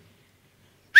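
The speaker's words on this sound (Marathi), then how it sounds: "ही शिट्टी होती आपल्या टीमसाठी" A sharp, loud whistle bursts out suddenly at the very end after near silence, given in cheer for a team on a Marathi comedy stage show.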